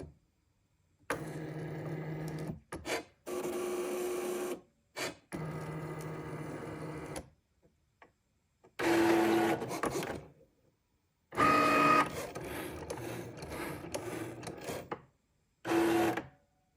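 A Cricut cutting machine carves a small calibration box in a series of whirring motor runs, some steady and some rising in pitch, separated by brief pauses and clicks, close by with no talking.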